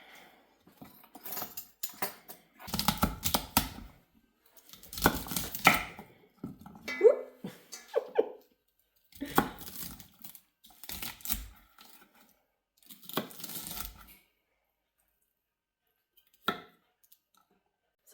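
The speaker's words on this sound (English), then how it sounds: "Okay, time to start chopping." Knife chopping asparagus on a board in bursts of rapid, fairly close thuds and clicks, separated by short pauses, with no talking.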